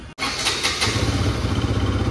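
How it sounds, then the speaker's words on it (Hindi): A Bajaj Pulsar RS200 2024 BS6 motorcycle fires up with a brief crank, then catches into a close, loud, steady idle with an even throbbing beat. "तो गाइस एक बार आप लोगों को गाड़ी की आवाज़ सुना देते हैं।"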